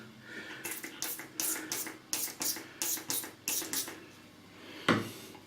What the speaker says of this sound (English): It's in a spray bottle so it doesn't make a mess.